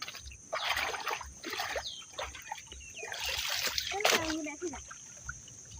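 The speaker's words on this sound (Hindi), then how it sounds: "मैं नदी में उतर रही" Water splashes and trickles irregularly as someone wades into a river, with a voice speaking over the splashing at close range.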